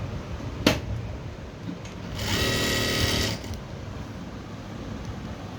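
Sewing machine stitching a folded blouse hem, a single short burst of rapid mechanical whirring lasting about a second amid quiet room noise, with a sharp click just before.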